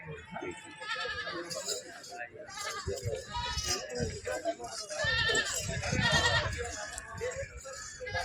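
Several goats bleat repeatedly amid a busy crowd at a live goat market in Talegaon Dhamdhere, with people talking over and between the calls.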